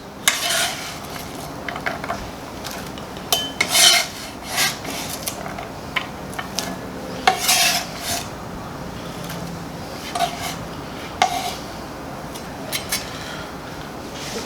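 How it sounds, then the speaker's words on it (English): Chopped onion and other vegetables for ceviche are tipped into a bowl, making close, irregular scraping and rattling with small clinks against the bowl over a steady kitchen background. "We're gonna just go ahead and throw our onion into a bowl"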